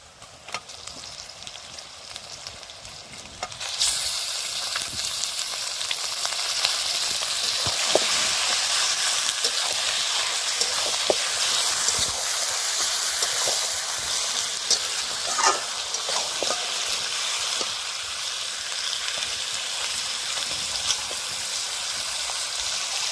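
Goat meat tossed into a pan of browned onions with ground spice paste sets off a loud, steady sizzle and crackle that swells after the first few seconds and keeps frying without a break.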